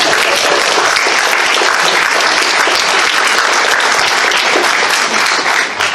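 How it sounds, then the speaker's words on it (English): Steady, dense applause from a large crowd fills the whole stretch, loud and unbroken, tapering slightly at the very end. "Give Giza a round of applause"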